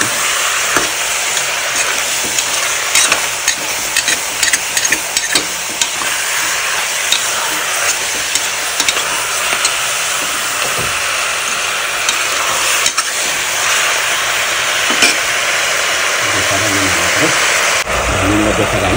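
Meat frying hard in a wok, a loud, dense, constant sizzle with scattered crackles and pops that runs through the whole stretch, with a voice partly heard under it.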